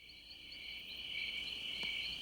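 Steady high-pitched chirping of insects fills the background, soft and continuous, with a brief faint click near the end and no voices.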